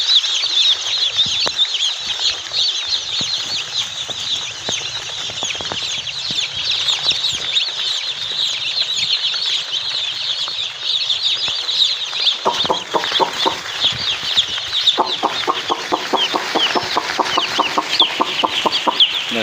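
A brood of baby chicks chirps continuously in a dense, high-pitched chorus, loud and close, with flapping and scuffling from the brooder in the later part.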